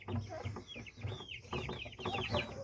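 Gamecock chickens of an old fighting breed cluck and cackle in short, repeated bursts, close and fairly loud, several birds overlapping in an uneven rhythm.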